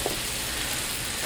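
Chicken thighs sizzle steadily on a barbecue grill, a continuous soft frying hiss with faint crackle, fairly quiet and unbroken.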